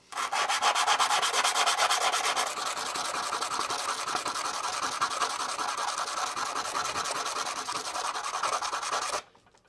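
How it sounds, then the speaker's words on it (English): Sandpaper rubbed back and forth on the iron core of a contactor, a rapid, steady scratchy rasping up close that runs continuously and then stops abruptly. "I'm going to take my sandpaper here and I'm going to sand this down until I make contact with the center pole"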